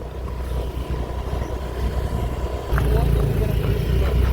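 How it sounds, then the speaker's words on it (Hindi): A scooter's engine hums steadily as two riders climb a steep hill on the way to a waterfall near Rishikesh, with wind rushing past, and the engine note grows louder partway through. "तो स्कूटरी के जागाने को तैयार हो रखे हैं क्योंकि ऊंचाई बहुत खड़ी चढ़ाई है ये"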